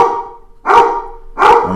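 A dog gives two loud, close barks about three quarters of a second apart, each one sharp and ringing, with a softer trailing whine between them.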